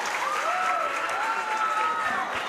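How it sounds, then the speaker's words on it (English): Crowd at a state championship softball game cheering and applauding loudly, a dense continuous roar with rising whistles and shouts, sustained throughout. "the crowd is absolutely erupting"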